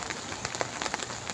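Heavy rain falls outdoors at a rocky swimming spot, a dense continuous hiss with scattered louder patters and splashes of drops close by.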